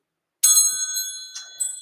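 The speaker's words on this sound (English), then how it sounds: "Let's call in spirit with a little bit of wind chime time." Wind chime struck twice, with bright metallic ringing tones that sustain and decay after each strike, heard alone in an otherwise quiet setting.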